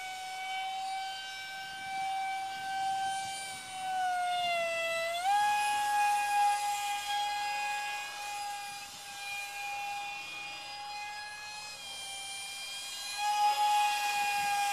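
A scratch-built mini Mirage 2000 delta-wing EDF park jet flies overhead, its electric ducted fan giving a steady high whine that dips in pitch briefly as the throttle eases back, then holds a level tone at moderate distance.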